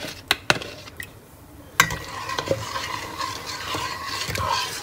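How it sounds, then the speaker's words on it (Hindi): Ground soaked rice for shahi kheer is stirred in a pot, with a spoon knocking and scraping against the metal in scattered clicks over a soft, continuous swishing and bubbling, close and fairly quiet. "आपने इसको लगातार हिलाना है वरना वो नीचे लगेगा"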